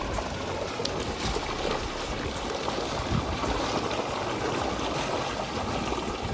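Cold water pours from a pipe in a strong, unbroken gush, a close and steady rushing splash that holds the same level throughout.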